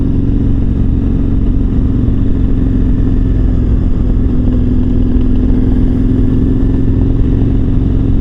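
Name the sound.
KTM 1290 Super Adventure R motorcycle riding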